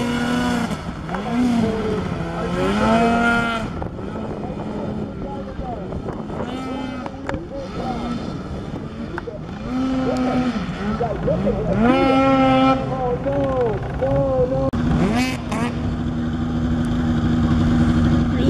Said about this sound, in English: Guy riding a motorcycle here.